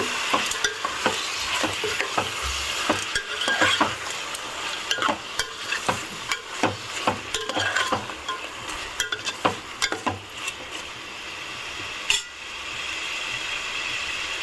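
Chicken pulav being stirred with salt and turmeric, a utensil scraping and clicking against the pot in steady repeated strokes over a continuous sizzle, close and moderately loud.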